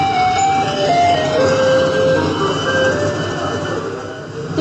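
A Taiwanese garbage truck plays its electronic melody in the street, a clear sequence of sustained tones over low traffic rumble, fairly close and steady throughout.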